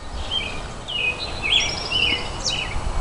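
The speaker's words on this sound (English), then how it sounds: "I want you to look at these birds." Birds chirping outdoors, a few thin high whistled chirps and short trills scattered over a soft background hiss.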